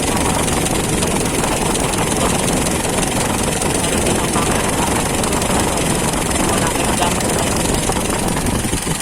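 A Honda K-series car engine idles steadily with a dense, continuous mechanical drone, loud and close throughout, with no break in the running sound.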